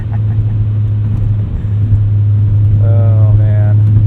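A 1997 Volvo 850 R with a 5-speed manual and new suspension accelerates hard, its engine droning low and steady while the inside wheel spins and squeals in two brief bursts near the end; a voice talks over it.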